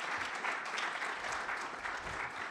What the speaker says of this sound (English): If we could get a round of applause for all the panelists here.